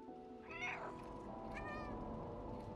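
A cat in the video game Stray gives two quiet meows, the first rising and falling, the second shorter, over a low steady background hum.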